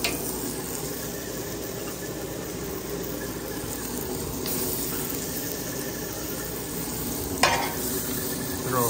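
Butter sizzles on a Blackstone flat-top griddle while smash burgers cook, making a loud, dense, continuous hiss with one sharp clack near the end and no talk.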